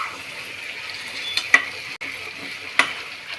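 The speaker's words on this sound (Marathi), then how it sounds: "अद्रक लसूण पेस्ट टाकल्यावर कंटिन्यू हलवायचं जेणेकरून पेस्ट ही तळ्याला चिटकली नाही पाहिजे" Ginger garlic paste fries in a pan with a soft, steady sizzle, broken by a few sharp scrapes of a spoon stirring it, close by and without talk.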